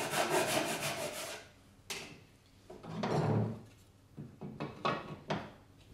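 A hand saw rasps through a wooden workpiece, cutting a diagonal for a Japanese corner splice joint, in close, quiet back-and-forth strokes separated by short pauses.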